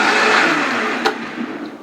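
Blender whirring steadily as it mixes habanero hot sauce with added salt, a loud continuous motor drone that dips slightly near the end, with no talking.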